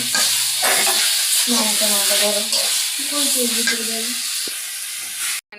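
Red amaranth leafy greens fry in a pan at home, giving a loud, steady sizzle with bursts of stirring, while someone talks over the cooking.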